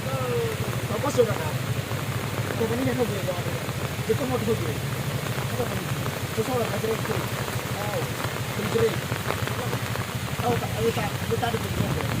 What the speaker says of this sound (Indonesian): hujan yang terus-menerus mengguyur Pulau Nias